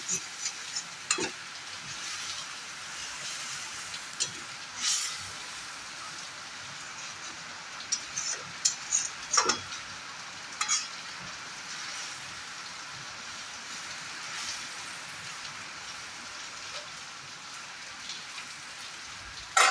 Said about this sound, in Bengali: এবার আমি এর মধ্যে দিয়ে দেবো পরিমাণ মতো জল, আর মশলাটা খুব ভালো করে ফুটে ওঠা পর্যন্ত আমি একটু ওয়েট করব।